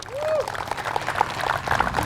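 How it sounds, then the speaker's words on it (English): Crowd applause at a college baseball field during a pregame ceremony, scattered clapping spread across an open outdoor space, moderately loud with faint voices under it. "let's give a round of applause for a great day to play the great game today"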